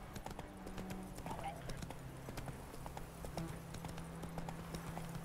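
Roach the horse's hooves clop in a quick, even galloping rhythm in The Witcher 3, steady and fairly close throughout, with faint voices and other sound behind.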